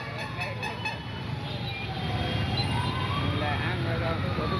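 An ambulance siren on a waterlogged road in Veerasandra, Bengaluru, at night, faint and wavering beneath a steady wash of traffic and water noise.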